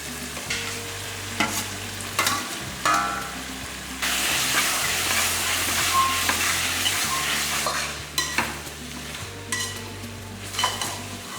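Prawns frying with onion and tomato in a pan, stirred with a utensil in steady repeated scrapes over a continuous loud sizzle, with occasional clinks of metal against the pan.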